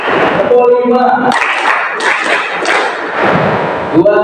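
Group clapping from a class of students performing a rhythm pattern, several strong clustered bursts of hands close by, framed by a teacher's voice at the start and end.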